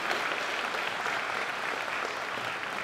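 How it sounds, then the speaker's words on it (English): Steady, loud applause from an audience at a school spring band concert, continuous clapping filling the hall without any break. "So let's give them another round of applause."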